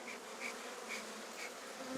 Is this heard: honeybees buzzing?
yes